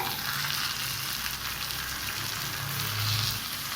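Drumstick leaves fry in a pan with a steady, close, even sizzle and faint stirring throughout, and nobody speaks.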